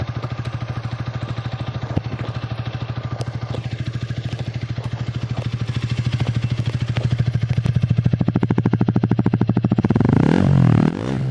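A Hero Karizma ZMR motorcycle exhaust idles with a steady, close, rhythmic thrum that grows slightly louder toward the end, then rises into a brief rev in the final second.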